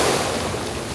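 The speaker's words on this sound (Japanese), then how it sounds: "波がすごいです" Waves surge and wash against a rocky shore near Nice, France, in a brief, loud burst of rushing water and wind noise.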